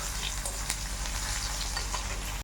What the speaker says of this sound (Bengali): দিয়ে দিব কালো জিরা, দিয়ে দিব পেঁয়াজ কুচি, হালকা নেড়ে চেড়ে লাল লাল করে নিব